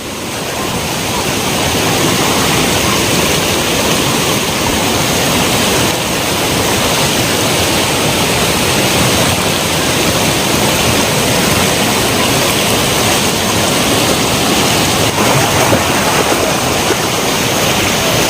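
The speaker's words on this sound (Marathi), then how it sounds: "तांबेवाडीच्या पर्यायाने रूप धारण केलेलं आहे" The Tambewadi waterfall in fierce flood roars loud and unbroken, a thick wall of rushing water that stays near and constant from start to finish.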